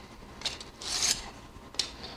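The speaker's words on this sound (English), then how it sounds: "Now to sharpen the other side of the knife, simply just turn the jig around, hold it, put the knife up against the registration surface," A knife blade drawn across a diamond plate in a Diamond Cross Fast Track sharpening jig, giving a few faint, short raspy strokes, the longest in the middle, with no talk.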